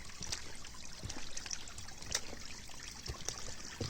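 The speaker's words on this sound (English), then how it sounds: "the water is just non-stop coming out of that wall in the back and filtering all the way down to here" Water running non-stop out of a wall on a small mountain slope in Japan and trickling down into a drainage grate in a flooded back yard, a steady close-up dribble and splash with no talking.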